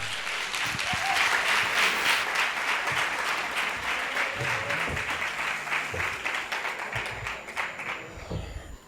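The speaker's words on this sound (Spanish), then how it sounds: "Un fuerte aplauso." Sustained applause from an audience at a talk on mysterious Egypt, dense clapping near and steady for most of the stretch, thinning slightly toward the end.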